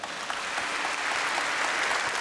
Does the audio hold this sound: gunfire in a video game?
no